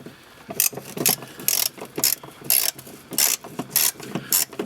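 A ratchet with a 10 mm socket works a bolt on a 2003-2007 Honda Accord. Crisp clicking bursts come at a regular back-and-forth rhythm, loud and close, with no talk over them.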